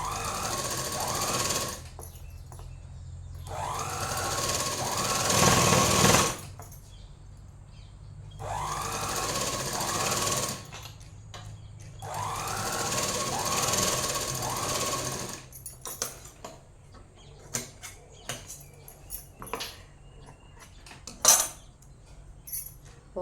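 A sewing machine stitches a chudidar top in a tailoring workspace, running in long, loud, steady whirring bursts separated by pauses, followed by lighter clinks and handling noises near the end.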